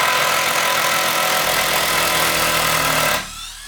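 Milwaukee cordless drill running at high torque as it drives a screw into a wooden stud, a loud, steady motor whine for about three seconds that stops abruptly, leaving a quieter tail.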